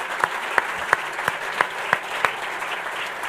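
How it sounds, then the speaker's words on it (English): An audience at a live hurling preview show claps in a roughly even rhythm of about seven distinct claps, set against a steady crowd wash. "I'd say that's the loudest applause a Clare man has ever gotten"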